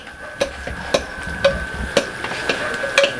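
Chillies frying in a pan in a home kitchen during preparations for an Assamese wedding, a steady low sizzle with sharp periodic clicks or taps roughly every half second, no voices.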